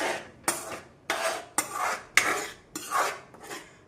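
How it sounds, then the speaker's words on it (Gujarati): Pasta is stirred in a pan with a utensil: about seven distinct scraping strokes come at a steady rhythm, each a short close rasp against the pan with quiet gaps between. "આપણે થોડી વાર મિક્સ કરતા રહીશું"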